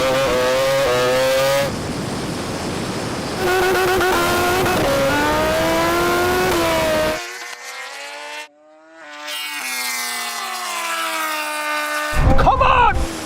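A supercar launches hard from the line in a drag race against a superbike, its engine screaming up through the revs in loud rising sweeps with gear changes, while people shout over it.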